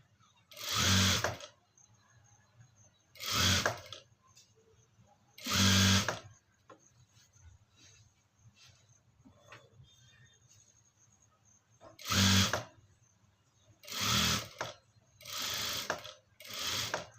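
A domestic sewing machine stitching fabric in several separate loud bursts, each a second or so of rapid mechanical whirring, with quiet pauses between runs.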